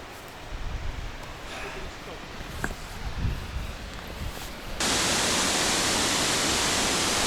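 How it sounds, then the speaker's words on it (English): Dynjandi waterfall in Iceland's Westfjords roars as a broad, steady rush of noise that swells sharply louder partway through and then holds, preceded by quieter outdoor ambience with faint footsteps. "Dynjandi waterfall."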